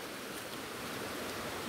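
Strong rushing water of Kawasan creek on Siquijor island, swollen after rain, a steady broadband roar of flowing water close by without pause.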